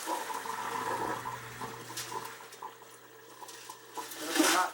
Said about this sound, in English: What I'm going to do now is go ahead and dump the tap water out.